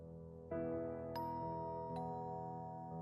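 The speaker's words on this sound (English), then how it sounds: "I heard the doorbell to my home" A doorbell chimes in a few clear ringing tones that sustain and overlap over a quiet background, fairly close and unaccompanied by voices.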